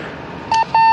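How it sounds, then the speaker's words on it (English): Radio beacon on a Soyuz MS-17 spacecraft during its landing in Kazakhstan, two clear steady electronic beeps, a short one then a longer one, loud and close. "The beeping sound you hear is a radio beacon on the Soyuz spacecraft"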